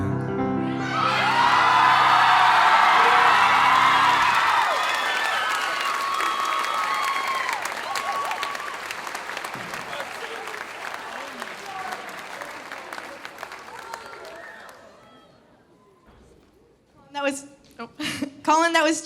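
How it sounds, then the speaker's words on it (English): A crowd applauds loudly and steadily after a song at a live pageant show, with some whoops early on; the clapping fades gradually, and a voice speaks near the end. "let's give one more round of applause for all the boys and their hard work tonight"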